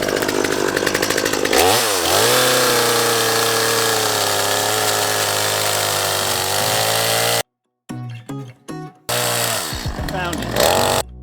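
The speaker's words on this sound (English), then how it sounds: "because I've run a chainsaw for so long, I know what I'm feeling for when I'm cutting the wood" A chainsaw roars loud and close while cutting into a hollow tree holding a feral honeybee colony, idling and bogging in pitch, then stopping abruptly before stuttering back in short bursts and returning to full throttle.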